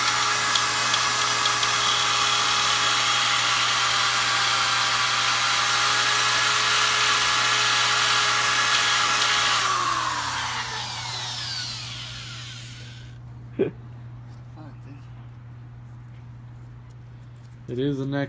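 Power tools whine steadily and loudly while a car's transmission is removed after a blown B20 engine, then the tool winds down and stops, followed by a few sharp metallic clanks in quieter surroundings.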